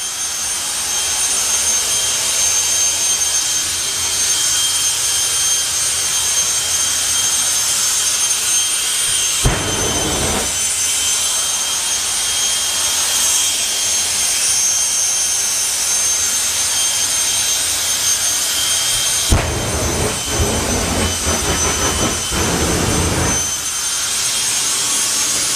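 Martin Hill's jet car runs down a quarter-mile drag strip with a loud, continuous jet roar. Two sharper bursts of hissing thrust break through the steady blast.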